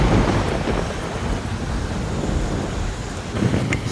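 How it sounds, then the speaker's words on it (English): Rain pours steadily during a motorcycle ride on a warm day, a dense broadband hiss with low rumbling wind and road noise running throughout. "We're not really concerned about this rain right here."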